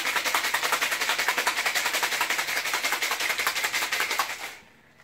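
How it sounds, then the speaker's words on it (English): Cocktail shaker full of ice being shaken hard for a margarita, a fast steady rattle of ice cubes against metal, close and crisp, stopping abruptly near the end. "you can start to feel it getting cold through the cocktail shaker, and you'll start to see condensation"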